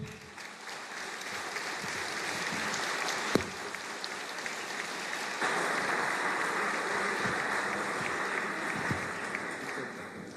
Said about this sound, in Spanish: lo saludemos dándole un fuerte aplauso